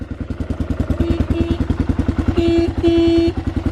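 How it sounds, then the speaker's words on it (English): A 1990 Kawasaki KLR 650 dual sport motorcycle idling with a steady thumping single-cylinder putter, then two short honks of its horn sounding as flat buzzing tones over the engine, close by. "what about the horn?"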